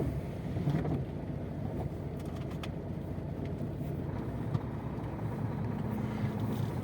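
A lightly loaded truck carrying about seven tonnes moves off. A low, steady engine rumble mixed with wind noise stays faint and continuous throughout.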